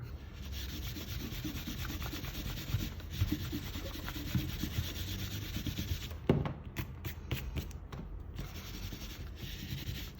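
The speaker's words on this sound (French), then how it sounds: "on peut gommer nos traits de construction." An eraser rubbing out pencil construction lines on paper, a steady close scrubbing texture for about ten seconds with a few brief pauses near the end, no talk.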